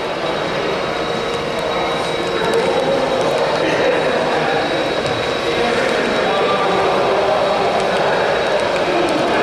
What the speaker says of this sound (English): this is what type of train that CSX train is going to run